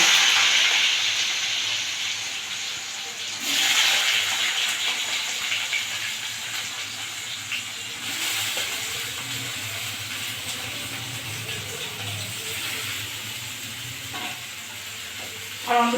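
Potatoes dropped into hot oil tempered with nigella seeds, bursting into a loud, dense sizzle that hisses steadily throughout with slight surges, close by and with no speech.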